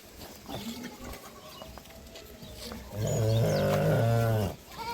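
A dairy cow at a village farm gives one loud, close, drawn-out moo lasting over a second after some quieter shuffling and background sounds.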